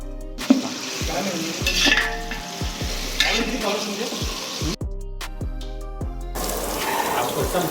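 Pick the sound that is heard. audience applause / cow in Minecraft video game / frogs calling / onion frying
onion frying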